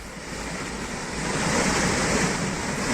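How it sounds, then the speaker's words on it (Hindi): Debris-laden floodwater surges through a swollen seasonal stream near a village in Ramnagar, Uttarakhand, after heavy rain, making a loud, steady broadband roar that builds slightly and continues without pause. "गांव की ओर बेहद खतरनाक तरीके से मलबे से भरा पानी आ रहा है।"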